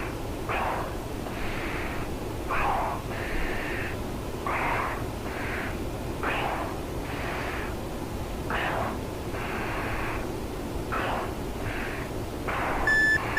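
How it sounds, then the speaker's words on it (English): Cockpit warning beep in the DCS World flight simulator during a sustained high-G turn, a string of repeated mid-pitched tones in uneven bursts over a low steady hum, no voices. "I've got a weird beep going on"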